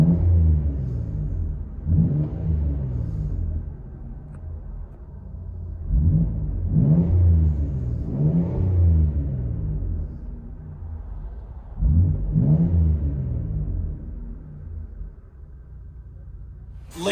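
Revving of a 2013 Lincoln MKX all-wheel-drive 3.7L V6 with dual exhaust and a muffler delete, heard from inside the cabin. There are four deep rumbling rev-ups with a steady idle drone between them.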